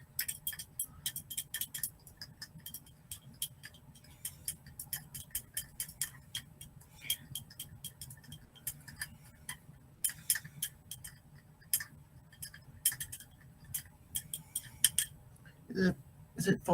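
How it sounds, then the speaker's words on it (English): A sugar cube is stirred in a glass to dissolve it, making rapid, irregular clinks and ticks of the stirrer against the glass that go on steadily over a faint background hum, with no talking. "Stir this real quick. Try to dissolve this."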